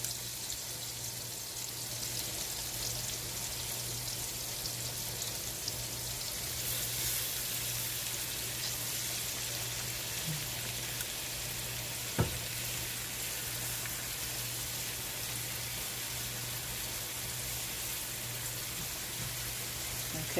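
Garlic frying in hot butter, a constant close sizzle and crackle with one brief sharp knock of a utensil, continuing without any voices.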